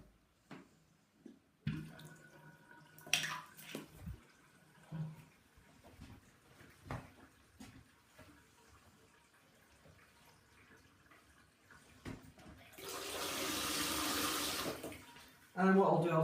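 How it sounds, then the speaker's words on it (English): Warm water runs into a bath while a bearded dragon is rinsed for impaction; scattered handling noises and thumps come first, then a steady close stream of running water swells for a few seconds near the end. "I'll just basically give her a rinse off with some warm water just to get her clean"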